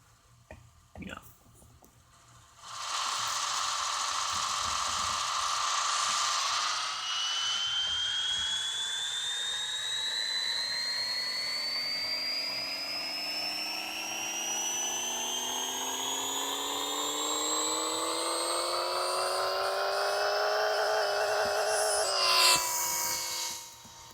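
A car engine in the Pixel Car Racer game revs steadily upward for about twenty seconds, a loud continuous whine climbing in pitch before cutting off, with brief talk at the start.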